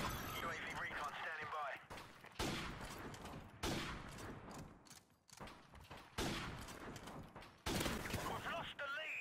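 Sniper rifle fire in the video game Modern Warfare Remastered, several sharp shots with bursts of gunfire spread across the clip, mixed with game effects and a player talking over it.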